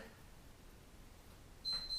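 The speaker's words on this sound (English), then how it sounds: "when you hear the beeps" A single electronic exercise-timer beep sounds near the end of a quiet stretch during a towel workout for people over 50. The beep is a short, steady, high tone.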